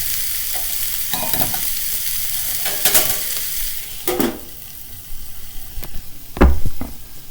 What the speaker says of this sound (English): I'm just going to let this simmer in here until the cabbage gets nice and tender